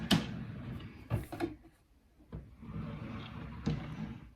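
A storage drawer in a small craft room sliding open, with a few sharp wooden knocks and scraping slides spaced across a few seconds, close and clear with no talking.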